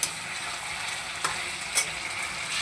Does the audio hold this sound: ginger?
yes